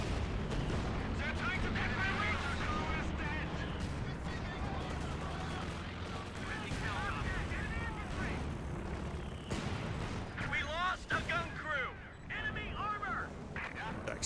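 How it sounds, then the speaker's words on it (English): Mortar shells and gunfire pound a Panther tank in the real-time strategy game Company of Heroes, with dense, continuous battle explosions and shots all the way through. Speech runs over the noise. "You might lose this Panther to mortar fire."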